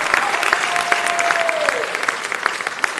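Steady audience applause for a theater group at a city council meeting, a dense continuous patter of many hands in a large hall.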